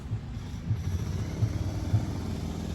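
A 2003 Cadillac Escalade AWD with a 6.0 LQ9 V8, aftermarket intake and dual-exit exhaust idles nearby, a low steady rumble with a faint regular pulse.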